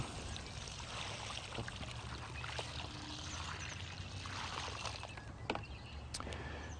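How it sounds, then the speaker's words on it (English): Water pours steadily from a hose or container onto a newly planted tree or shrub in a garden, a continuous close splashing wash that runs the whole time with a few small knocks near the end. "So we need to water that regularly"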